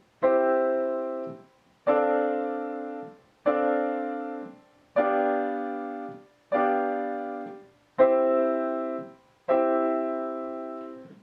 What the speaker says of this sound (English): Now I'll play all of them one after the next, measures 1 through 8, without talking.